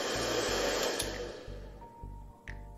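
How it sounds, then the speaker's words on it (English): A hair dryer is powered through thin wires that cannot carry its current, so its loud steady whir comes with a low throbbing hum that pulses in regular bursts and sags toward the end. "If I try to power a hairdryer using these thin wires, it's not going to work."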